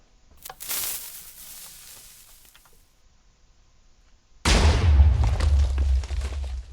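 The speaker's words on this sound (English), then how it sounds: "sets off an explosion" An explosion in the Minecraft Twilight Forest mod bursts in suddenly and loudly after a quieter stretch of faint game sounds, then its broad roar holds and slowly thins out.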